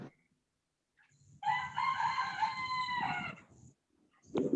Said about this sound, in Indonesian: Itu ayam jagonya siapa itu?